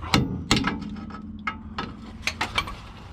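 A hammer strikes metal while work goes on beneath a Volvo 245 on a lift, about eight sharp, irregular knocks over a few seconds, close and fairly loud, alone with no talk.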